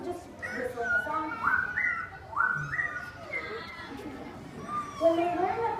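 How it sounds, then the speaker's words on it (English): At a zoo bird show, a clear whistled tune of rising, sliding notes repeats several times over a hubbub of voices and a narrator talking. "this ghost was just whistling a song."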